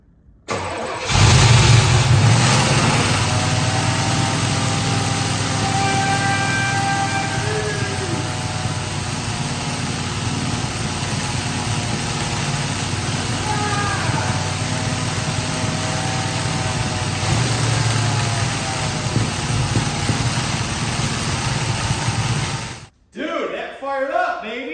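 Car engine, a Firebird project car being revived, cranks and catches, then settles into a loud, steady high idle that runs without a break for over twenty seconds; people talk faintly beneath it before it cuts off at the end.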